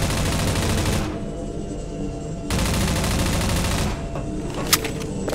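Sustained burst of gunfire in Half-Life 2's Minerva Metastasis mod, a dense rattling volley that stops briefly and resumes, with a sharp single crack near the end.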